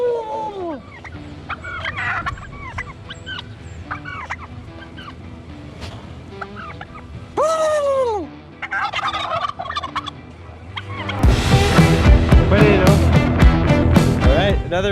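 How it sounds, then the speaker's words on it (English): Turkeys gobble repeatedly at a roadside gas station in South Cotabato, Philippines, loud nearby calls in bursts, some overlapping, followed by a denser chorus of gobbling near the end. "the turkeys, man. This is the turkey gas station"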